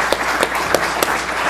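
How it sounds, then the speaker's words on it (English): Audience applause after a talk on transportation issues, steady clapping from a crowd with a few sharper individual claps standing out, moderately loud and without voices. "let's give you guys a big round of applause."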